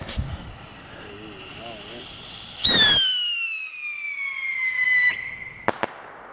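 Black jack firework rockets go off outdoors: a sharp launch bang, then a long whistling, descending screech, and finally a couple of loud pops, fairly close.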